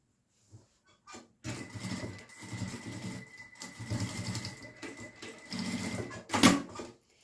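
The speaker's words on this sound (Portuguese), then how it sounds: "Essa costurinha eu faço com pontos bem largos, só para fechar mesmo." Sewing machine stitching a side seam with wide, long stitches on a small fabric pouch, a close steady mechanical whir running in several bursts with short pauses and a sharper knock near the end.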